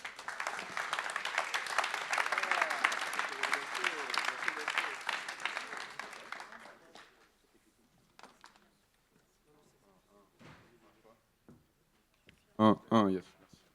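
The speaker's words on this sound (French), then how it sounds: "Est-ce qu'on peut l'applaudir, s'il vous plaît?" A live audience at a poetry event applauds steadily and densely for about six seconds, then the clapping fades into near quiet with scattered voices and a few soft knocks.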